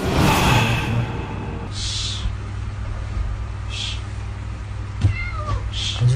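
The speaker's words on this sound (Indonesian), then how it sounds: "Tiba-tiba ada kucing maksa masuk, aneh banget." A cat meows several times in short, fairly clear calls spaced a second or two apart, heard over a steady low hum inside a boarding house room while a horror film plays.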